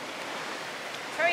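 River water rushes in a steady, broadband wash during a river crossing, with a louder gust or splash near the end of the short stretch.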